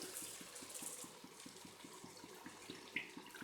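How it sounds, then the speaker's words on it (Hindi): Water poured into a cooking pot (degchi) of spiced potatoes for an egg and potato curry, a steady close splashing stream running throughout under faint kitchen background. "अब 2 कप पानी मैं डेगची में ऐड कर रही हूँ।"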